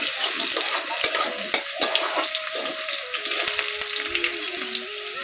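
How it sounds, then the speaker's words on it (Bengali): Crushed garlic frying in a pan for leafy greens, a steady close sizzle running throughout with occasional soft clinks and stirring sounds, no talking. "রসুন দেওয়া কমপ্লিট এখন এটাকে ভালো করে ভেজে নিই"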